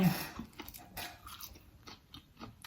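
Someone chews and eats Thai khanom jeen rice noodles with curry at close range, soft wet bites and mouth sounds in an uneven rhythm, fairly faint.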